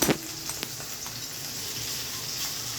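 Small shrimp with turmeric and salt drop into hot oil in a pan, where red amaranth leaves are also frying. A brief crackle at the start settles into a soft, even sizzle.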